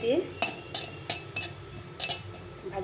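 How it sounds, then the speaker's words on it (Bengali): Cumin seeds dry roast in a wok as a utensil stirs them, making about seven sharp metallic scrapes and clinks in an irregular rhythm, close by and otherwise quiet. "আমি কিছুটা শুকনো মানে কড়াইয়ে জিরে রোস্ট করে নেব"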